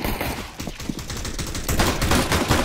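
A rapid, continuous burst of gunfire in Counter-Strike: Global Offensive on the Inferno map crackles throughout, dense overlapping shots that swell slightly louder toward the end, with no speech over it.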